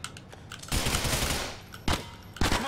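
Rapid gunfire bursts from the video game GTA: The Ballad of Gay Tony, a long loud volley followed by two shorter sharp bursts, close and without voices.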